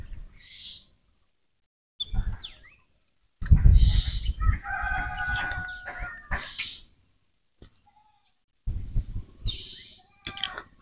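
Tiger and Brahma hens kept in cages on a poultry farm cluck and squawk in scattered bursts, with quiet pauses between calls.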